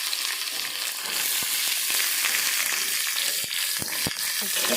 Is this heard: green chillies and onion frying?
yes